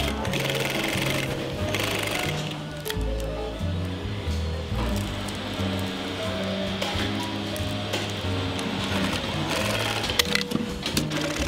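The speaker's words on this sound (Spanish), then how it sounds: "En esta operación se cose la parte delantera y la trasera por la costura lateral." An industrial sewing machine stitches the side seam of denim jeans, joining the front and back panels, running in steady bursts with short pauses amid a busy factory workshop hum.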